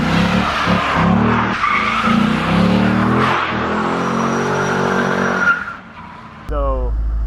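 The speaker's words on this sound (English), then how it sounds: "Let's get to drifting." A stock C5 Corvette drifts with loud, sustained tire skidding and engine roar for several seconds, the squeal fading briefly before the engine revs up again near the end; a voice talks over parts of it.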